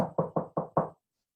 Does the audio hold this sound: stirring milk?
no